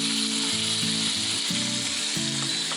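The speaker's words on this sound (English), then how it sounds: "We're going to saute her." Pork roast searing in an Instant Pot on sauté mode gives a steady, loud sizzle. Periodic tonal mechanical tones repeat through it, and no one talks.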